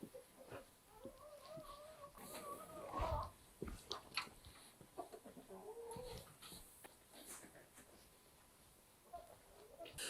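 Farm poultry fed wheat under a roof on a drought-hit farm, with close rooster and chicken clucks and calls in irregular bursts, faint and scattered.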